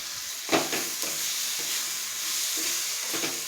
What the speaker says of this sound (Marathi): दोडका अशा प्रकारे भाजून घ्यायचा आहे।